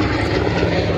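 A Merlin-engined P-40 fighter flies at an air show at Duxford, its engine a loud, steady, throaty drone held close for a brief moment with no voices over it.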